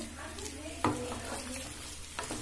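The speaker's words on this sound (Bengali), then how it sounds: "ভালো করে 2 মিনিট ধরে নেড়ে নেব।" Soya filling stirred in a frying pan for cheesy soya egg rolls, a steady close sizzle broken by a couple of sharp spatula scrapes against the pan.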